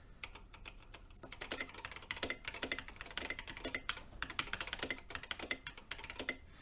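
Fingers type on a stainless steel mechanical keyboard fitted with brown switches, producing quick bursts of crisp, close keystrokes in uneven rhythm with brief pauses between runs.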